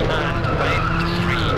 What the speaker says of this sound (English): Keep sliding around, drifting the car around the road.